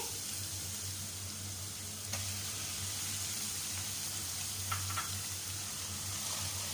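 Chicken fries in a pan for Singaporean rice, a faint, steady sizzle under a low hum, with a couple of light clicks from a utensil and no talking.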